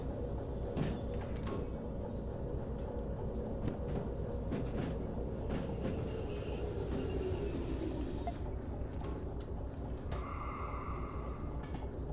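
Train shunting in the railway simulator game Derail Valley, with steady rumbling wagon and rail noise, clanks and a squealing tone, continuous and fairly close with no talking.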